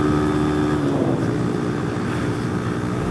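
A Honda Monkey motorcycle fitted with a Yoshimura RS3 exhaust runs flat out near top speed, giving a steady, loud engine drone with heavy wind roar throughout and no talking.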